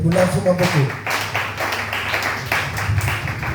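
A church congregation claps together in praise of the Lord, with loud, fairly even strikes blending with raised voices and singing throughout.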